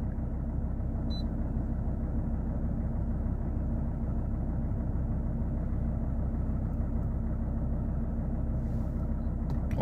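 A Mercedes-Benz 270 CDI wagon diesel engine idling, giving a steady, even low rumble that holds unchanged throughout, heard from close by with no talk.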